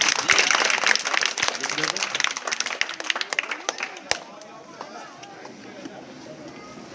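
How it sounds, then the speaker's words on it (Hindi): Children at a Miladunnabi religious gathering clap together in a loud, busy burst that fades after a few seconds, leaving quieter room noise and murmuring voices. "ताली बजा दो"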